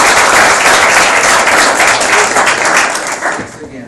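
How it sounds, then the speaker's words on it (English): An audience claps their hands at a technology talk event, a dense, steady wash of applause at close range that thins and fades toward the end. "let's clap your hands again"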